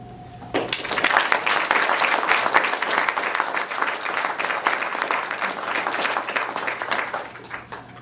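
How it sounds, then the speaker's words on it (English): Audience applause for volunteers at a city's State of the City address, a sudden burst of many hands clapping that swells quickly, stays loud and steady, then thins toward the end. "All of our volunteers deserve a round of applause."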